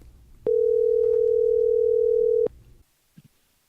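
A steady telephone dial tone sounds for about two seconds at the start of a phone interview call, loud and unbroken, then cuts off into near silence with a faint click.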